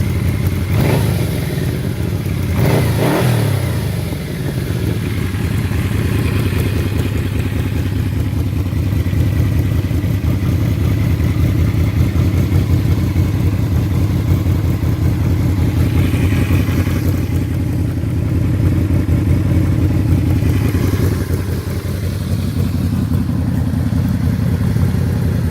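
A heavy 280-kilogram V-Boost engine power-cruiser motorcycle accelerates hard with a loud, sustained engine roar that rises and shifts through gears over about 25 seconds.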